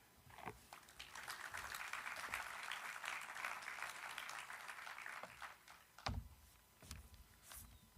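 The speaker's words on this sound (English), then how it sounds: "thank you for those applause" Applause from an audience fills most of the clip, steady and moderate, then tapers off into a few scattered sounds near the end.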